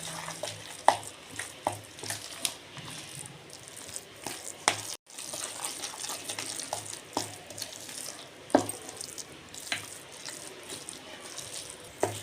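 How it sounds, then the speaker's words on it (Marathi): Dal vada batter with chopped onion and coriander being stirred by hand, a soft continuous scraping and squelching with occasional light taps, close and quiet. "आता आपण हे असं मिक्स करून घेऊयात।"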